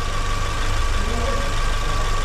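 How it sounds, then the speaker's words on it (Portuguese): A car engine idles evenly and steadily after maintenance, a loud continuous low hum with no talking over it. "E o motor, ó, como é que tá? Tava oscilando, ó, como ele tá contando bonitinho"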